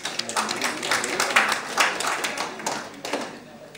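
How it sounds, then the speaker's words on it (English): Audience members clap for one another at a talk, a close, uneven patter of hand claps with irregular sharp peaks running for several seconds, lightly mixed with faint voices. "Give your buddy a clap"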